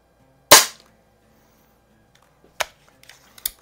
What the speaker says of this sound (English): It's actually a pretty nice shooting gun.